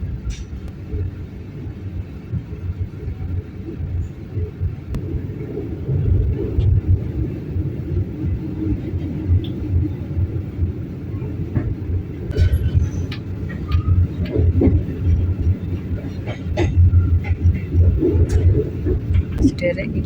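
The KA Kamandaka train rolls along with a low, steady rumble and occasional clicks and knocks, entering Semarang Poncol station, while someone talks over the noise.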